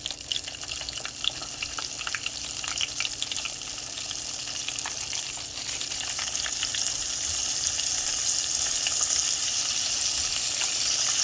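Oyster mushrooms fry in hot oil over medium-high heat, giving a steady, close, dense sizzle with crackling pops throughout and no talking.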